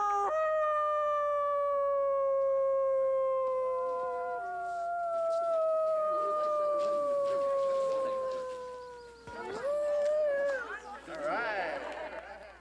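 Several people howl in imitation of wolves during a howling contest at the International Wolf Center, long sustained rising and falling tones overlapping near the mic, followed by bursts of cheering and crowd noise.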